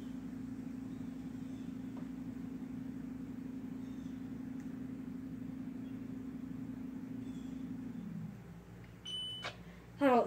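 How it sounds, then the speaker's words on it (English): A long elevator ride in the video game Undertale, heard as a steady low droning hum with a faint background texture that holds for about eight seconds, then fades, followed by brief electronic chimes and a short loud burst at the end. "Wow, it's a long elevator ride."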